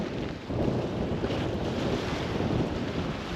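Strong wind buffets the microphone at Honeymoon Island on the Florida coast, a loud, steady roar with surf-like rumble and no one speaking.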